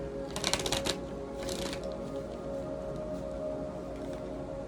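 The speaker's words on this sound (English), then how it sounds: "I'm trying to shuffle them on my lap" Daily crystal cards are shuffled on a lap in two quick bursts of close, crisp riffling flutter, followed by quiet room tone with a steady faint hum.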